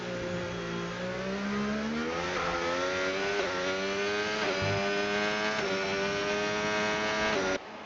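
A Formula 1 car screams past at full speed during Miami qualifying, its high-pitched engine note holding loud and steady with rising harmonics as it shifts through gears, then cuts off abruptly at the end.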